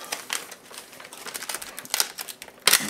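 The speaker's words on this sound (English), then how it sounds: "let's get this tape off." Packing tape is ripped off a package, irregular crackling and tearing bursts close by, with a sharper pull near the end and no speech.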